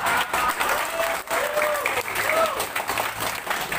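An audience applauds at a Brimob police anniversary gathering in Bojonegoro. The clapping is loud and sustained, with cheering voices and a short whistle-like tone rising through it.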